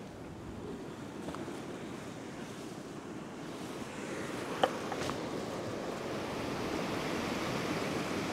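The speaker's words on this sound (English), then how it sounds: "There's a bit of wash there when the waves come in." Ocean waves wash steadily against a rocky headland where people go rock fishing, a continuous broad roar of surf with wind noise over the microphone and a brief sharp knock partway through.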